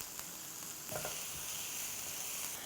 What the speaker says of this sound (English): While stir frying, we will add a little salt.